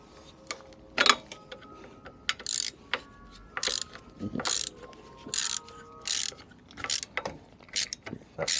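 A spanner ratchets a bracket nut off a Direct Bikes DB50QT-11 sport moped during restoration, giving repeated short bursts of metallic clicking separated by pauses, close and moderately loud.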